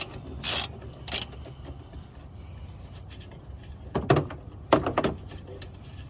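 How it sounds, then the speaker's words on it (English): A 3/8 socket ratchet working on a clip under the hood of a 2016 Jeep Compass during upper hose replacement: a couple of quick ratcheting bursts, then a pause and another cluster of clicking strokes, close and fairly quiet. "get yourself a, let me just double check, a 3/8 socket set, and get yourself in there to remove this"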